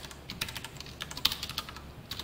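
Code being typed on a computer keyboard: a brisk run of light key clicks at close range with one sharper keystroke midway, no talk.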